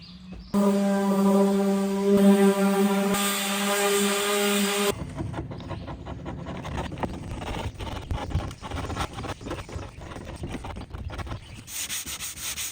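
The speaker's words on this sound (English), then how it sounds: "I'm going to take my palm sander with 100 grit and go over the whole thing very lightly" A palm sander with 100-grit paper whirs with a steady tone, then shifts to a rough, scratchy grinding as it rubs back and forth across a 1991 Old Town Pathfinder canoe hull, close and continuous.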